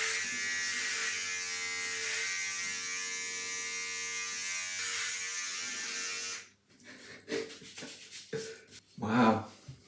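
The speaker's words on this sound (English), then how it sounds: "I'm getting that razor and I'm doing it." Electric razor shaving a balding man's head down to bald, a steady close buzz for about six seconds, then the motor cuts off, leaving scattered brushing and handling noises.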